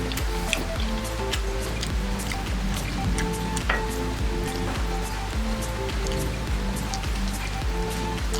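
Monsoon rain falls steadily outside a home in Kerala, making a constant close hiss of drops pattering on surfaces. The downpour continues unbroken throughout, with no talking heard.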